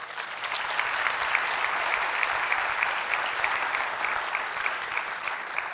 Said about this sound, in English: I just want to give a round of applause to our student athlete presenters this evening for all that they did